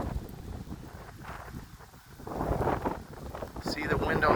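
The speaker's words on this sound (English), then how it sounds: "the wind is blowing like hell" Strong storm wind buffets the microphone outdoors by a lake with trees, gusty roaring surges rising and falling, with a voice speaking briefly under the noise.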